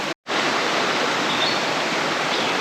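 Devil's Hole Creek flows across a hiking trail, a steady, dense rush of water close by that fills the whole clip after a brief silent gap at the start.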